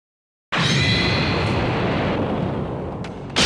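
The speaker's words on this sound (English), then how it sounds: "When an explosion interrupts him." A loud explosion in the Dragon Ball Super anime bursts in suddenly and keeps roaring as a broad rumbling blast for about three seconds, then a fresh burst hits right at the end.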